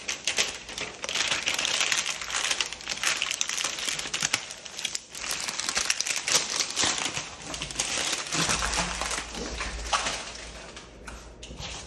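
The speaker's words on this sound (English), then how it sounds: "I'm gonna just tear this open now." A paper package is torn open, giving a dense, continuous run of crinkling and ripping paper up close, steady for most of the stretch and easing off toward the end.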